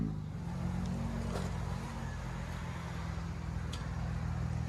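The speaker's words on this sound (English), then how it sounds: "put it in neutral and give it gas again" A 2001 Audi S4 with straight-pipe exhaust idling in neutral gives a steady, low droning engine rumble, moderately loud and even, with no distinct rev peaks.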